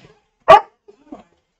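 A single loud, close dog bark sounds once indoors, followed by faint soft whimpering noises.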